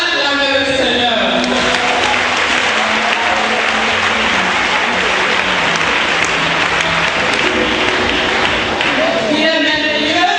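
Church congregation at a French-language worship service breaks into sustained loud applause and cheering, a dense crowd clapping steadily throughout, with voices and sung tones rising above it.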